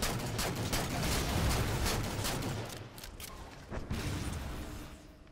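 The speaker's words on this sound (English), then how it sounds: "I unloaded a full clip, and he didn't die" Rapid gunfire in a Halo 4 flag and bomb match: a close, continuous volley of shots that thins out briefly, then resumes.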